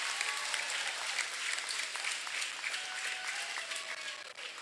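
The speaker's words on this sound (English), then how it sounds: "One more round of applause for tonight's kid captains." Steady applause from a gym crowd at a high school girls' and boys' basketball game, honoring the kid captains; continuous dense clapping at moderate distance with no talk over it.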